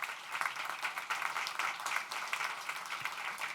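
Audience applause at the grand opening of a permanent supportive housing development on Mission Street, a steady wash of many hands clapping at moderate volume throughout, with no speech over it.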